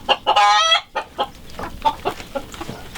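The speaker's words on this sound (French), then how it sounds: "il y a 2 œufs, il y a 7 poules" Hens clucking in a coop holding seven hens, a loud burst of rapid clucks up front followed by a run of shorter, scattered clucks close by.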